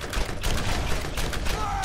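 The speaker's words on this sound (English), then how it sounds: "Went a little crazy with the shooting" Dense, rapid gunfire from shooting in the game Borderlands, a close and loud stream of overlapping shots that carries on without a break.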